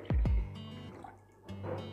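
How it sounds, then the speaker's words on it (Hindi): Water is poured into a bowl in a kitchen while chicken is being washed, two quick splashing gushes followed by softer trickling and dripping, close up and alone. "अब मैं इस बाउल में पानी डालूंगी"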